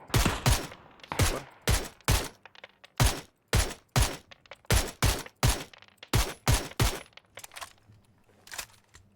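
Rapid bursts of PUBG gunfire on the Erangel map, loud and close, firing in quick clusters of shots with short pauses between volleys.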